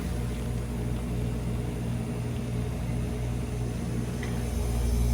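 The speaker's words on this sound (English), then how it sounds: "Right, our water filled up. Our compressor just kicked on." A Hoshizaki ice machine's compressor runs with a steady low hum and drone, continuous and unchanging, close by with no voices.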